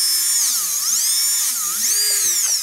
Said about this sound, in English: it's used with a little buffing wheel that you can use on your little drill, your little flex shaft, or your little modem tool